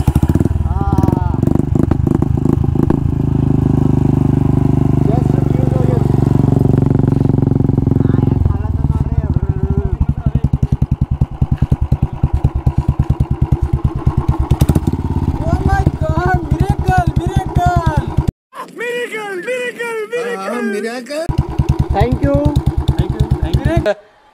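An old scrap-bound motorcycle engine idles and revs with a rough, continuous mechanical thrum, briefly cutting out near the end before running again, with people talking over it.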